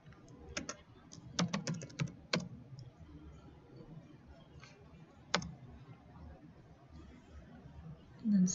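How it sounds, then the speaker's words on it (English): Clicks of typing on a computer keyboard in a Windows 10 chat exercise: a few short bursts of keystrokes near the start, one sharp tap midway, then a louder press at the end, over a faint room hum. "And type in hello."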